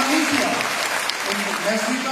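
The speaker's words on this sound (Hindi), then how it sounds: "मैं चाहूंगा कि जोरदार ताली सुमन सर के लिए" An audience at a business gathering claps together in a short burst of steady applause that fills the space, with a voice speaking over it.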